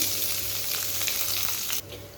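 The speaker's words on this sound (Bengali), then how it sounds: "তেলটা গরম হয়ে গেছে আমি কেটে রাখা পেঁয়াজ কলি আর পেঁয়াজটা আমি দিয়ে দিব" Loud, steady sizzling of onions frying in hot oil, a dense close hiss that drops slightly in level near the end.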